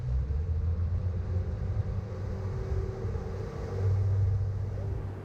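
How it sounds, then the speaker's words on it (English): Salpa Soleil 33 boat pushed by two Yamaha 300 hp outboard motors on the Gulf of Naples, a steady low engine rumble with rushing water noise, continuous and fairly loud. "2 Yamaha 300 horsepower outboards will be pushing this Salpa Soleil 33 during our test drive."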